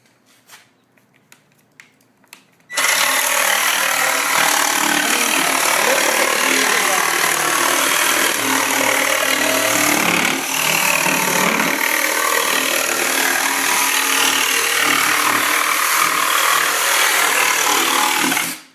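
Metabo 18V cordless jigsaw with an aggressive wood blade cutting half-inch plywood, a loud, steady, continuous buzzing saw roar after a few faint handling clicks at the start, running unbroken until it cuts off at the end.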